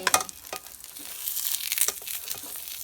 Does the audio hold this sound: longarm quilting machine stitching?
no